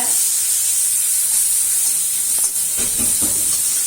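Vegetables sautéing in hot oil with asafoetida for a tapioca stir-fry, a steady close sizzle and hiss with a few soft stirring scrapes near the end, no talking.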